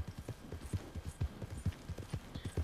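Horse hooves clip-clopping in Red Dead Redemption 2, a steady, quick rhythm of soft close hoofbeats at a trot, fairly quiet and with no talking.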